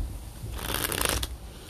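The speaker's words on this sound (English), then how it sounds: "Let me shuffle one more time." A deck of tarot cards is shuffled in one quick riffling burst, soft and close, with no talk.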